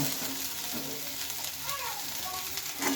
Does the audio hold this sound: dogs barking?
no